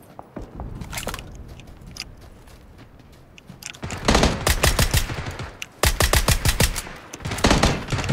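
Gunfire in PUBG Battlegrounds during a duo match, with a few scattered shots at first, then dense bursts of loud automatic fire from about four seconds on, no talk over it.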